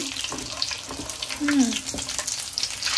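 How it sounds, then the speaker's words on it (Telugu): Chicken leg pieces fry in hot oil, a steady close sizzle with bubbling crackle and a few brief scraping stirs partway through. "ఇట్లా బ్రౌన్ గా వచ్చే వరకు వేపుకోవాలి"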